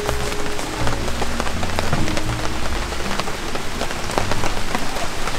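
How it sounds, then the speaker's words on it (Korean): Steady rain patters on a campsite in Pyeongchang during a wet-weather camping trip, a dense, even hiss of drops hitting surfaces close by, continuous and fairly loud with no voices. "어, 빗소리 좋다."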